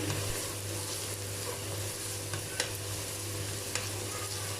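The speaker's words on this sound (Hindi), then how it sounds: "जस्ट 1 से 2 मिनट प्याज को इस तरह से मैंने सौते कर लिया, और इसके अंदर लहसुन अदरक पेस्ट ऐड कर रही हूँ" Steady sizzling of onions with garlic-ginger paste in a hot pan, with occasional scraping and stirring clicks, close by and continuous, no voices.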